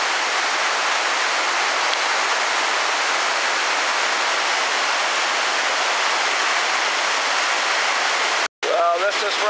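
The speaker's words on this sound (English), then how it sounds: "You can hear a little more of the rush of the water as it heads down the little gorge here at Hogs Back." Water rushing down the small gorge at Hogs Back Falls in Ottawa, a steady, loud, broadband roar that continues unbroken for nearly the whole stretch, cut by a brief dropout near the end.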